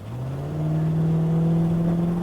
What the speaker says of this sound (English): You can hear the exhaust leak a little bit.